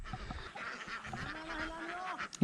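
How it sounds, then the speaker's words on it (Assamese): Several ducks on a farm honk and quack close by in a short burst, with overlapping calls and faint background noise. "ইয়াতে হাঁহখিনি চৰি থাকে"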